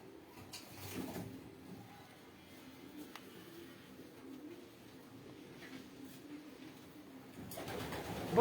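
Pigeons coo softly in a loft, with low, repeated calls spread through the scene, some shuffling and knocks, and a bump near the end.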